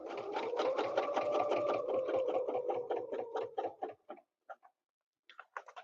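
A sewing machine double stitches a quilt with ruler quilting, a fast rhythmic run of stitches that slows into separate spaced taps before a short final burst.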